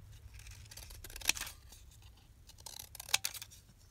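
Scissors cutting a paper cutout in a quiet room, with two crisp, close snips about two seconds apart and no talking.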